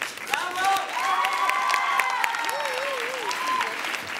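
An audience applauds a performer named Narek at a televised singing show, sustained clapping with some cheering, while a voice or melody rises and falls over the crowd noise.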